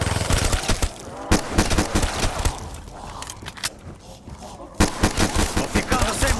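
Bursts of rapid gunfire in Call of Duty: Black Ops III Zombies mode, loud sharp repeated shots in clusters with a quieter lull in the middle before firing resumes.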